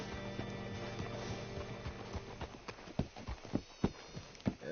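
Horse hooves clop in an uneven walking rhythm in Red Dead Redemption 2, growing more distinct toward the end over a steady hum.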